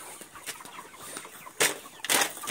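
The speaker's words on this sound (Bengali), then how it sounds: "এখানে অনেক মুরগি আছে, সব খাবার খাচ্ছে" Many chickens in a large poultry farm, eating and drinking, with scattered soft clucks and bursts of rustling or flapping that rise sharply near the end, fairly close and without talk.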